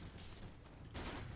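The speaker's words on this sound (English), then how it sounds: "Gyrocopter hits flak cannon here" Flak cannon attack by the Gyrocopter hero in Dota 2, heard as two quick bursts of faint, crackly gunfire-like pops under game noise.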